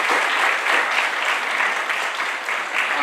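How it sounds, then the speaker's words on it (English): Steady, full applause from an audience at a symphonic band concert, dense clapping filling the space evenly and continuously from start to finish with no voices standing out. "One more round of applause."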